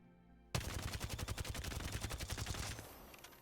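Automatic rifle fire in the Apex Legends video game, a loud sustained burst of rapid, evenly spaced shots that begins abruptly and stops after roughly two seconds.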